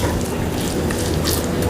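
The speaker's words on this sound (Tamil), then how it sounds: "இப்போ இது எல்லாத்தையும் நம்ம மிக்ஸ் பண்ணிக்கிடுவோம்" Flax seed recipe ingredients are stirred and mixed in a hot pan on the stove, giving a steady scraping stir over a continuous frying sizzle.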